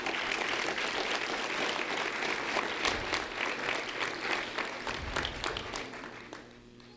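Applause from an audience at a sheriff's office award ceremony for a fifth-grade student, dense and continuous clapping holding steady for several seconds before tapering slightly.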